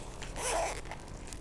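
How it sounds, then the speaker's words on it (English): Zipper on a case of welding tips being pulled open in one short close rasp, with faint handling noise after. "I don't know what this is, but it comes with zippers."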